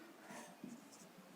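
Quiet strokes of writing on a board during a biology lecture, with a few soft scratching marks and brief pauses, faint and close, and no talk.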